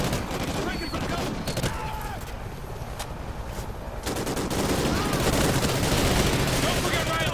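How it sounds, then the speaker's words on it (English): Dense, continuous automatic gunfire in the Call of Duty: Ghosts video game, with rapid overlapping bursts and sharp cracks sustained loudly throughout a chaotic firefight. "I'm taking fire over here!"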